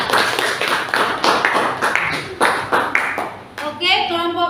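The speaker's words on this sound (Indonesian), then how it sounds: "Ya, silakan tepuk tangan." A classroom of students clapping their hands after a group presentation, several bursts of close, fairly loud claps in an uneven rhythm, with children's voices mixed in and a voice speaking near the end.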